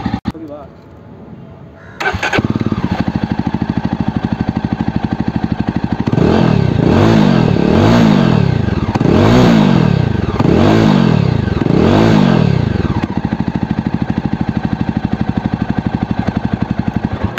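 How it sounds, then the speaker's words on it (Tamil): A Jawa Perak Bobber 350 BS6 motorcycle starts with a sudden loud catch into a thumping idle, then is revved several times in rhythmic swells before settling back to a steady close idle, with someone speaking over it. "இந்த வண்டியோட இப்போது பீட் கேட்பணுமோ"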